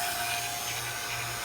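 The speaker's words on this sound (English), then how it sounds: "I got the vacuum going with the old Hillmore vacuum pump here." An old Hillmore vacuum pump runs steadily on an HVAC system during a TXV replacement, giving a loud, continuous mechanical drone with a low hum and dense hiss that does not let up.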